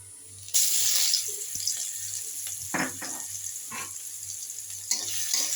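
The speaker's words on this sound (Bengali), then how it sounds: "রসুন আর শুকনো লঙ্কা আমি লাল লাল করে ভেজে নিচ্ছি।" Garlic and dry red chilies fry in hot oil in a kadai for a lentil tempering, a steady broadband sizzle running throughout with a few scrapes and stirring clinks along the way.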